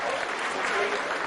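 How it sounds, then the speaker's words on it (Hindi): A burst of applause fills the mission control room during the Chandrayaan-3 moon landing, a dense, continuous wash of clapping from many people, close and loud throughout the brief moment. "Lot of applause indicates that till now the performance has been nominal."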